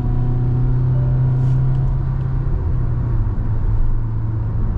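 A Kia Carens top-model diesel with a six-speed automatic pulls hard in sports mode, giving a steady loud engine drone and rumble that holds a constant pitch through the run, with no voices.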